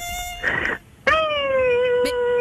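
A person's voice imitates a mosquito, giving a thin, steady, high-pitched whine that breaks off briefly and then returns, sustained and fairly loud, alone without other talk.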